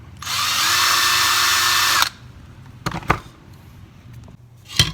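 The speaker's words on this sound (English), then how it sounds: "Easier way to do that is just to take the drill and ream it." A power drill reaming a hole in a sheaf fork for Highland Games whines loudly and steadily for about two seconds, then stops, followed by a few knocks and clatters nearby.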